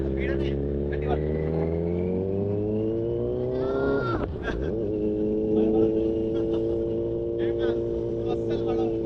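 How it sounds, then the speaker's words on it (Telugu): A Kawasaki Z900 motorcycle's engine and exhaust rev up close and loud. The pitch climbs smoothly, snaps down midway, then settles back to a strong, steady drone. "నీకు బండి సౌండ్కి భయం అవుతుంది కదా."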